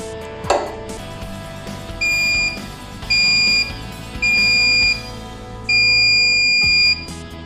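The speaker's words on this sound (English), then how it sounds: "the IR sensor will sense it and the buzzer will buzz" Buzzer of an IR-sensor security system on a grain-cleaning model, four loud steady electronic beeps in an even rhythm, each lasting about a second, over a low hum.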